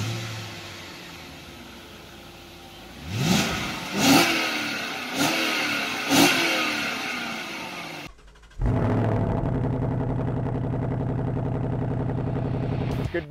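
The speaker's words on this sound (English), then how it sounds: "Let me give you guys an exhaust note now." A BMW E38 at a Father's Day cars and coffee show revving its engine, four sharp throttle blips rising and falling over a low idle, followed by a cut to a different steady sound.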